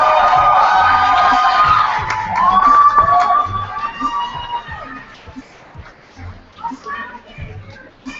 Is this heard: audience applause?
yes